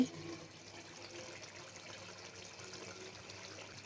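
Steady tap water running in a home kitchen while a child's hands are washed, a continuous close splashing rush with no talk over it.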